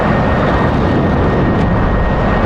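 An F-16 jet landing in the DCS World flight simulator, a steady loud engine roar with broadband whooshing noise, constant and close throughout.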